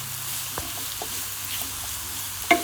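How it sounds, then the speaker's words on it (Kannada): Curry ingredients for a chicken green curry fry on a low flame, a soft steady sizzle with a few light stirring taps and one sharper scrape near the end, close and quiet. "ಇದನ್ನು ಕ್ಲೀನಾಗಿ ಫ್ರೈ ಮಾಡ್ಕೋಬೇಕು"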